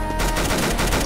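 Rapid automatic gunfire in a first-person shooter, a dense burst of sharp repeated shots filling the whole moment, loud and close with no voices.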